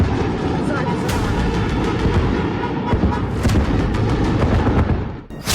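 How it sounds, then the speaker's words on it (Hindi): Russian missile strikes on Kyiv at night, heard from a home balcony as repeated heavy booms and rumbling blasts over a constant roar, with several sharp impacts in succession. "आधे घंटे के अंदर धमाके ही धमाके होते हैं।"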